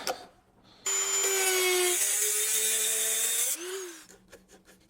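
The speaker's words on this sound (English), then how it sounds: "Let's Dremel it off." A Dremel rotary tool cuts through a badly rusted bracket on a Bentley W12 engine, a loud steady high-pitched whine with grinding grit that runs for a few seconds, then dips in pitch and stops.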